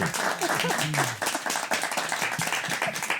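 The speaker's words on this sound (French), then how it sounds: "On peut applaudir, bien sûr" Studio audience of a French quiz show clapping after a correct answer, brisk close hand claps mixed with a host's voice talking over them.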